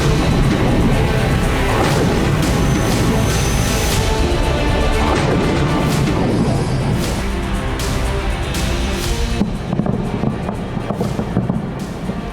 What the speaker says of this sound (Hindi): इस दौरान धमाकों की आवाज कई किलोमीटर दूर तक सुनाई दी।